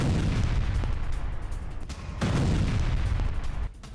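Explosions from an attack destroying a Russian howitzer, heavy booming blasts with a sustained low rumble and a few sharp bursts, loud and close.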